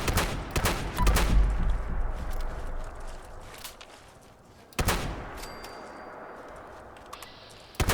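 The Cold Shoulder shotgun fires in Fallout 76, several sharp close blasts with echoing tails at irregular intervals, broken by footstep-like thuds and a faint electronic tone.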